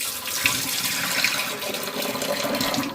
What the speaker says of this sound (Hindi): पौधों में अच्छी खासी वाटरिंग कर चुकी हूँ, इसलिए ये वाला पानी फेंक रही हूँ।